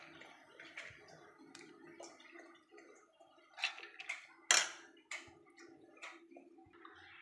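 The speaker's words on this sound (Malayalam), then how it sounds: "കുറേശ്ശെ വെള്ളം ഒഴിച്ചിട്ട്" Water poured little by little into a mixer jar for urad dal vada batter, faint close trickles and small splashes in short bursts with quiet gaps between.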